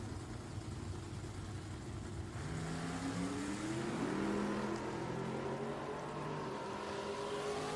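An 1985 'Thumper' Camaro drag car launches at Richmond Dragway, a loud engine roar rising steadily in pitch as it accelerates away over several seconds, with no talk.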